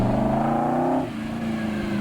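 A V8 car engine from the 1980s revs loudly and steadily, its pitch rising, then drops and settles into a lower drone, heard up close with no voices.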